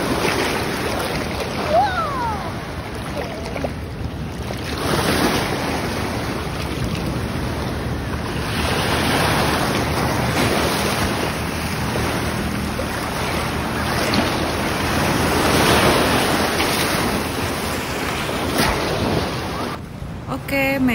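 Steady wash of ocean surf at Ujung Genteng beach at dusk, with wind rushing across the microphone, a continuous broad roar that swells slightly without pause.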